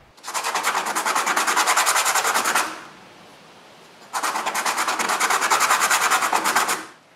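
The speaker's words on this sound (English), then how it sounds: "I can smooth all the edges now." Hand rasping or sanding along the edges of a small wooden camera baseplate, two sustained bursts of rapid back-and-forth scraping strokes, close and loud, separated by a short pause.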